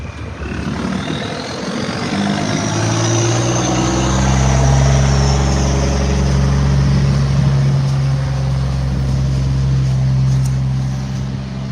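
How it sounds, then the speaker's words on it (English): A dump truck hauling a hoe passes close by outdoors, its loud diesel engine a low steady rumble with a rising and falling whine as it moves past, heard alone without talk. "It's a dump truck."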